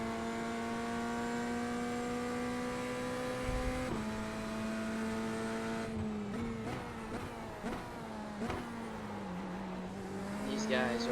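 A race car engine in a video game whines at high, steady revs, dropping and climbing as it shifts through corners, with tire squeal and a voice talking over it.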